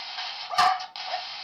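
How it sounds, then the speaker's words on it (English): A single dog bark cuts through a steady, band-limited hiss of radio-like static from a spirit box session, short and fairly loud, with the noise bed continuing before and after. "Dogs are barking."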